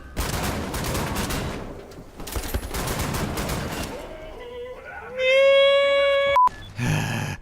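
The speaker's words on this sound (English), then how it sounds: "Oh, I can use shotgun. I'll use dual wielding shotgun." Dual-wielded shotguns fire in the video game Wolfenstein: The New Order, a dense barrage of loud blasts over the first few seconds. Ringing tonal game sounds follow the blasts.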